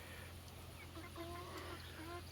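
Hens and roosters cluck softly at a distance, a few low murmuring calls over a steady background hum and outdoor noise.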